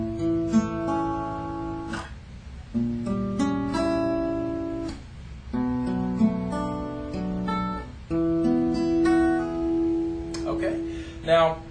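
Acoustic guitar playing a song intro, sustained strummed chords and picked notes ringing in sections with brief gaps, moderately loud and close, no voices.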